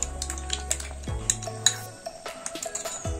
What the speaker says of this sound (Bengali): এবার আমি যে দুধটা বাটিতে গুলে রেখেছিলাম সেই দুধটা দিয়ে দেব